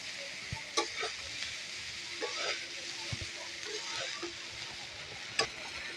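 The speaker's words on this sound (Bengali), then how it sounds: "এখন দিয়ে দিচ্ছি পাস্তাগুলা। নিচ থেকে আলতো ভাবে নাড়তে হবো।" Pasta is stirred gently in a hot pan, with a soft continuous sizzle and occasional light scraping taps of the spoon, close and fairly quiet.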